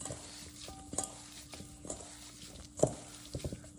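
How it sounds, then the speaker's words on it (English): A burger patty seasoned with salt, onion powder and black pepper is mixed by hand, making faint, soft squishing and stirring sounds in short, irregular bursts in a quiet room. "Now time to mix."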